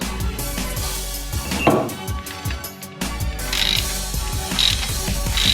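A ratchet wrench loosens a stuck bolt on a seized K750 motorcycle during a teardown, giving loud, steady rapid clicking that runs throughout with brief pauses between strokes.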